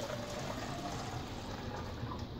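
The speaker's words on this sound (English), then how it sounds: "So I'm going to pour this into each one of the cups." Water pouring steadily into a row of cups, a continuous close splashing trickle filling each one in turn, fairly loud and without any talking.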